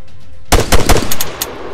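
A short burst of machine gun fire in the military shooter Arma 3, a few sharp rapid shots after a brief near-silence, loud and close, fading with echoing tails.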